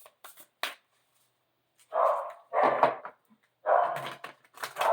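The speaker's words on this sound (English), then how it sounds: "my dog is barking his head off." A pet dog barks repeatedly in short bursts at a moderate distance, with quiet gaps between them and no one speaking.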